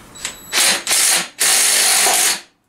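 Loud bursts of mechanical ratcheting as a wrench cranks the nut of a flywheel puller on a Kohler KT17 engine, three spells of rapid clicking separated by short pauses, close up.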